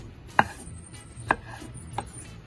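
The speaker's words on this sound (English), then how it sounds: "I'm just gonna go ahead and cut in smaller cubes" Three separate knife chops through peeled watermelon and pineapple on a cutting board as the fruit is cubed for a daiquiri, each a crisp close thud with gaps of under a second.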